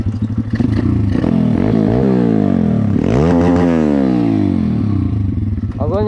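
A small pit bike, an MRF 140RC or Bashan 200, ridden over a sandy pit, its engine revving up and down loudly and close throughout with throttle swells, while a rider talks over it.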